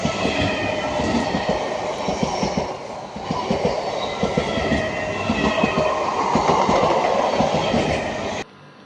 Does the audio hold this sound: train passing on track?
yes